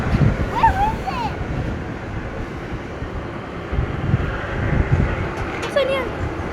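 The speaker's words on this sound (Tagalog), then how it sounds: "Pero baka mahangin tayo dito" Gusty wind on a cruise ship buffets the microphone in low rumbling bursts, with a few brief voices and exclamations breaking through.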